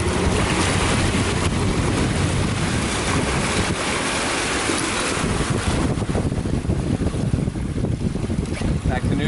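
An offshore fishing boat's motor runs in reverse, backing down on a hooked sailfish, a continuous loud churn mixed with wind and splashing water throughout.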